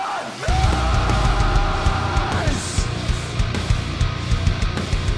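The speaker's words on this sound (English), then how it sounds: "this build up runs into a breakdown that sounds like this" Heavy nu-metal industrial breakdown with dense, loud distorted low end and pounding rhythmic hits, a sustained synth-like tone across the first half, continuous and full throughout with no voices.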